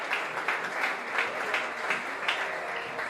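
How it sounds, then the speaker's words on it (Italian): Audience applause at a Miss Aurora beauty pageant selection held at Villa Ferretti Angeli in Dolo, a steady dense clapping that holds evenly for about three seconds with no voices over it. "Un applauso per Elettra Caputo."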